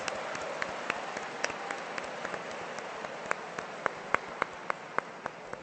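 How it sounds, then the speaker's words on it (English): Audience applause at a My Little Pony fan convention Q&A comes through faint and thin, with scattered individual claps popping out over a soft wash of clapping. "give a round of applause to our cyber guests, Megan McCarthy and Amy Keating-Rogers"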